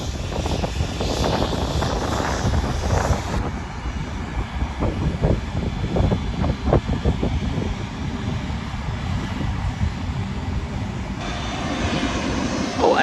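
A jet aircraft landing at Malaga airport, heard from beside the nearby aviation museum, gives a sustained engine roar that holds steady for the whole stretch at moderate distance.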